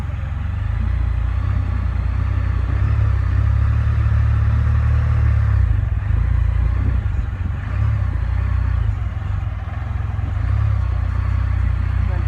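A Can-Am Spyder three-wheeled motorcycle engine rumbles steadily and loudly while reversing, a close, continuous low drone with little change throughout.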